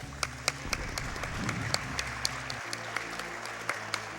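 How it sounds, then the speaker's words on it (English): Audience applause at a Games Done Quick speedrun marathon for Super Metroid, a steady wash of many hands clapping through the whole stretch under game music and faint talk. "I love the fact that you guys know when to clap."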